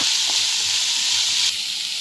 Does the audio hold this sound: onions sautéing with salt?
yes